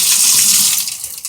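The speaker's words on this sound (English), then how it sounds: "I'm going to turn on the supply water here." Supply water gushes through a garden hose into a small portable washing machine, a loud steady rush of filling water that tapers slightly at the end.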